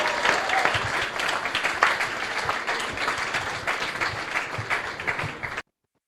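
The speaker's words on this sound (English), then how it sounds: "One more round of applause." An audience at a climate startup pitch night gives a round of applause, dense and sustained clapping that cuts off abruptly near the end.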